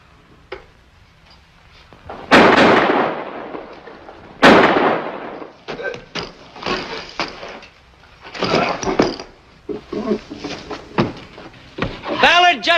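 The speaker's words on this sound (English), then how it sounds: "Ballard just shot Johnson." Gunshots in a 1954 western: two sharp, loud bangs a couple of seconds apart, followed by a scattering of smaller cracks and voices.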